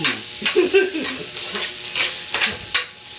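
Green chili is stirred into sautéed onion, garlic and ginger in a hot pan for mussels cooked in coconut milk, giving a steady close sizzle with scraping stirs and a few utensil clicks against the pan.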